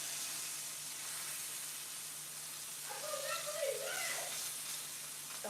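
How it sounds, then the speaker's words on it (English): Pork chops sear in a hot skillet on high heat, giving a steady, fairly quiet sizzle and hiss that swells slightly partway through, with no talking. "So I want this to touch the pan to sear nicely."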